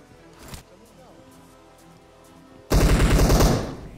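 Automatic gunfire in the BGMI battle royale game, a loud sustained burst of rapid shots near the end after quieter game ambience with a faint earlier pop.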